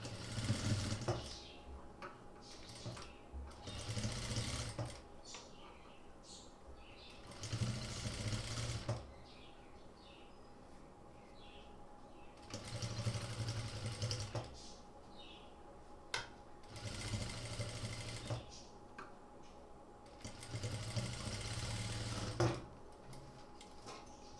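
Sewing machine stitching a sleeve for a chudithar kurti top, running in several steady bursts of rapid mechanical chatter separated by short pauses, fairly close and alone.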